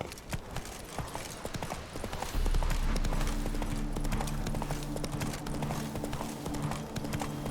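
Horse galloping in The Witcher 3, rapid rhythmic hoofbeats with a deeper drone joining midway, close and steady.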